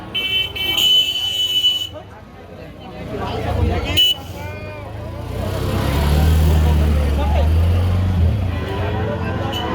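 A van horn blares in short bursts and a sustained honk over a noisy, crowded cattle market in Kalaroa, Satkhira, with people talking nearby.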